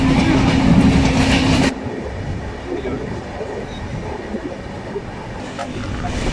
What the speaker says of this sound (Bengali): উত্তরবঙ্গে ট্রেনে করে ফরেস্টের মধ্যে দিয়ে যাওয়ার একটা রোমাঞ্চকর দৃশ্য